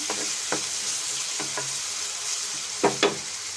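Onions with a pinch of salt fry in a pan for a ridge gourd and prawn curry, a steady close sizzle broken by several sharp spoon scrapes and taps, two louder knocks near the end, no talk.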